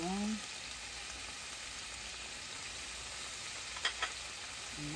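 Tofu soup ingredients with ginger, mushrooms and baby tomatoes sizzle in a pan while being stir-fried, a steady soft frying hiss with a couple of light stirring clicks near the end.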